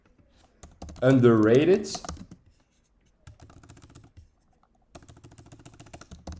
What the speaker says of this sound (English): Actually, I should write this down.